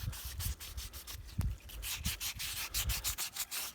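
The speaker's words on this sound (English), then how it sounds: "if you just carefully rub the high spots" Steady rubbing and sanding strokes on a wet Land Rover door hinge as its high spots are worked down, a close, rhythmic scuffing that repeats in short bursts with no talking.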